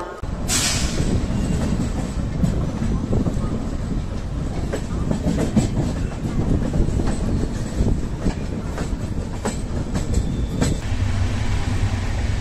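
A passenger train runs on the rails at night between Indore and Jabalpur. Close, steady rumble with rhythmic clickety-clack of wheels over rail joints, continuous throughout with occasional sharper clanks and no talking.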